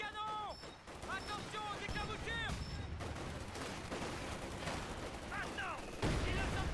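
Grenade blast and gunfire in the World War II strategy game Company of Heroes 2, with rapid bursts of shots, a loud explosive thump, and whistling shell sounds layered in a busy battle mix under steady game noise.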